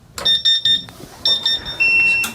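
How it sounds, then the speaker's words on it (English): Startup alarm of a CW-5000/CW-5200 water chiller for a laser engraver: a loud, close electronic beeping in several short bursts, then a longer steady high tone. "So when you turn it on, the alarm always goes off at first."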